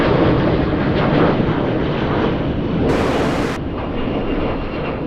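A passenger plane flies directly overhead on approach at LAX airport, a loud, steady broadband jet roar that fills the scene throughout and swells slightly before easing a little toward the end.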